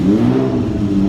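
Ferrari P4 sports car engine revving loudly and close, a steady deep growl that holds for about a second at an Italian sports car show, with no talk over it.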